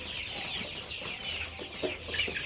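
Farm chickens clucking in a poultry shed, a steady murmur of many birds with occasional louder clucks close by, continuous and moderately faint.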